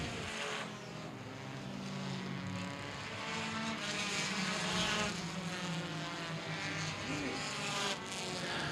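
Compact touring race cars lapping Baer Field Speedway, three wide through lapped traffic, make a continuous distant engine drone that swells and fades steadily without a break.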